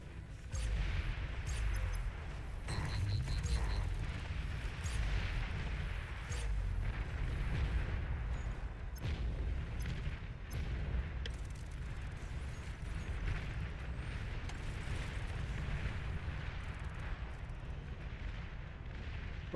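Rumbling explosions after an enemy commander is destroyed in the strategy game Beyond All Reason, a dense continuous roar of booms and crackling blasts lasting throughout, low and heavy.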